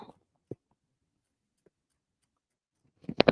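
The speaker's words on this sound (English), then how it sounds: "And now I'm using my Kimberbell snips." Kimberbell snips cutting fabric in a sewing project, a few sharp isolated snips in near silence followed by a quick close cluster of cuts at the end.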